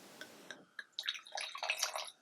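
Pinot Noir wine is poured into a glass, a short, close liquid splash and trickle that swells after a few faint drips and runs for about a second before ending, quiet overall.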